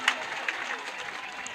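Applause from an audience for a group of grade 10 students at a school event, a steady patter of clapping with a few sharper claps near the start.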